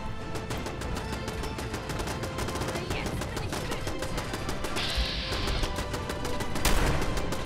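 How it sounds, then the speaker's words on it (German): Rapid gunfire in the Fallout 4 video game, a dense continuous stream of loud shots with crashing impacts and a brief louder burst near the end. "Schießen dann noch."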